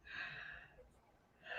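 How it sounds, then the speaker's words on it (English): A single person yawns in a short, breathy exhale that swells and fades, then a second breathy rise at the end, close and fairly quiet. "Ignore the yawn."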